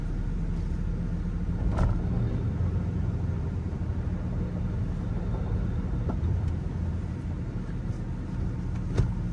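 A Ram 3500 Mega Cab pickup with a Cummins diesel engine and a six-speed manual reverses into a driveway, its low, steady engine rumble running throughout, with a faint click or two near the end.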